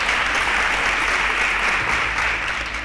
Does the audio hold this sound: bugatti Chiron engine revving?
no